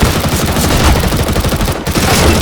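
Dense, loud gunfire from a Counter-Strike match at a professional tournament, with rapid overlapping shots forming a continuous fusillade.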